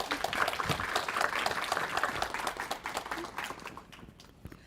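Scattered applause from an audience at a literary magazine unveiling event for an award recipient who is absent, fairly faint and thin, tapering off toward the end.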